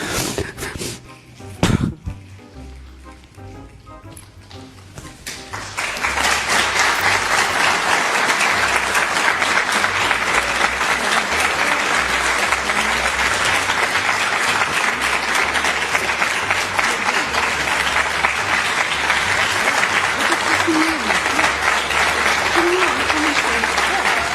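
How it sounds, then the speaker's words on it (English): A sharp noise and a brief quiet, then loud, sustained applause from a large audience that keeps going steadily, with faint voices mixed in. "the room responds with applause"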